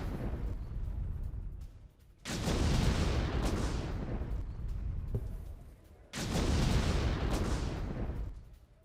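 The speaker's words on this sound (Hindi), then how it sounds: "दक्षिणी लेबनान में अंडरग्राउंड टनल ध्वस्त कर दी है" Two heavy, booming blasts destroy a Hezbollah underground tunnel in southern Lebanon, each a loud low rumble that rolls on for several seconds and then fades, heard from a distance with no voices.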